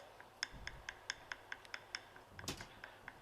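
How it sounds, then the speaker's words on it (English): A glass stirring rod grinds needle-like crystals into fine powder for a melting point sample. The result is a quiet series of short, regular scraping clicks, roughly four per second, with one louder rasp partway through. "take this glass rod and spend a minute grinding these things into a very fine powder"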